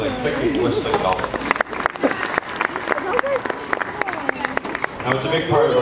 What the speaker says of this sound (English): Round of applause for the clicky whistling dolphin.